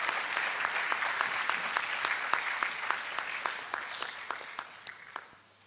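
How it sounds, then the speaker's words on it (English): A hall audience at a medical college induction ceremony claps steadily and fairly loudly for a few seconds, then the applause thins and fades away at the end. "Let's welcome him with a round of applause."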